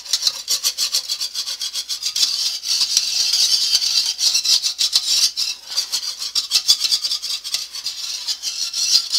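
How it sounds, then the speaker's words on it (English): Repeated scraping strokes of a utensil against a pan of white gravy, rhythmic and close, with a steady hiss underneath and no talking. "A lot of stirring tonight, folks."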